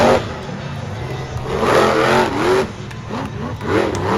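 A monster truck engine roars and revs in loud surges as the truck launches over a bus at a monster truck show, with crowd and announcer noise mixed in.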